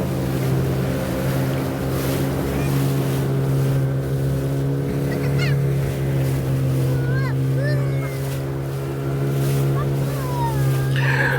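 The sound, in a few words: speedboat cruising on Lake Sarangan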